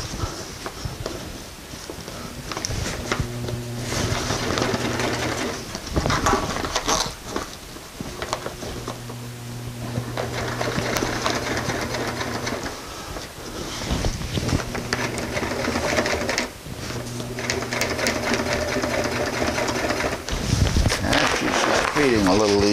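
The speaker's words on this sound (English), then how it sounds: "Again, I got this all lined up to sew." A heavy sewing machine stitches a tuna cooler fish bag in repeated bursts of rhythmic clattering, separated by brief pauses as the thick material is pushed through, loud and close throughout.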